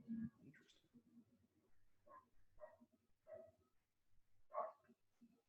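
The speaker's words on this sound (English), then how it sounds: "I can hear a dog barking." Faint, distant barks and whimpers from a dog downstairs come in scattered bursts against a quiet background.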